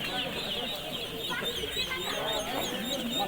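Duck chicks at a distribution event in a village, a busy chorus of overlapping peeps and cheeps, fairly close and continuous, with people talking in the background.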